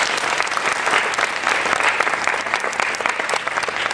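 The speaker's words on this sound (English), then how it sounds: "So let's give him a round of applause, please." An audience at a town hall breaks into dense, continuous applause, many hands clapping together in a steady roar that stays loud and even throughout.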